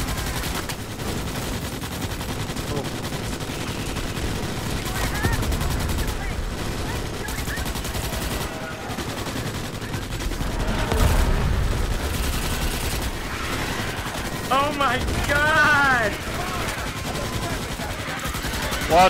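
Gunfire and rapid bursts from the video game Starship Troopers: Extermination crackle continuously against the arachnid enemies, with dense battle noise and voices calling out over the shooting.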